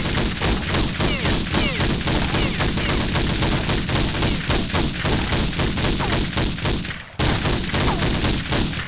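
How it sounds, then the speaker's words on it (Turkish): Rapid AK rifle gunfire in Counter-Strike 1.6 on a jailbreak server, loud and near, with dense bursts of shots packed together and a brief gap around seven seconds before the firing resumes. "Saklananları bu arada AK ile tara koruma."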